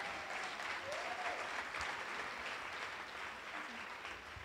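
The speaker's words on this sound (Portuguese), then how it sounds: "Então, uma salva de palmas para o Bob Dylan" A conference audience breaks into sustained applause: dense, steady clapping that holds evenly throughout and fades slightly toward the end, with no voices on top.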